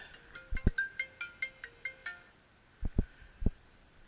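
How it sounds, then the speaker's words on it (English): An electronic phone ringtone plays a quick repeating melodic pattern, followed by a few dull thumps, indoors during HVAC service work on a Lennox dual fuel package unit. "And the phone rings."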